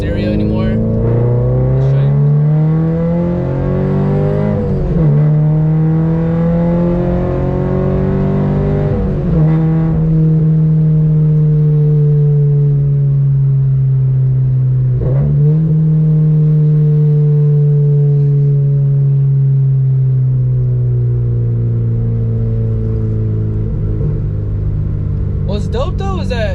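A Scion FR-S with a gutted exhaust, no resonator or muffler, accelerating hard through repeated gear changes, its loud raspy engine drone climbing in pitch, dropping at each shift and climbing again, heard close from inside the car.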